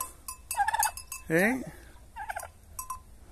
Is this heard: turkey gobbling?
yes